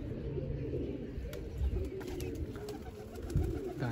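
Pigeons coo softly at a loft, low rolling calls repeating under faint background noise and a few distant clicks.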